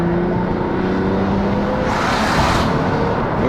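An Infiniti FX35 SUV accelerates hard on an open road. The engine roars steadily and loudly, the pitch climbs as it pulls through a gear, and tire and wind noise rise around it. No one speaks.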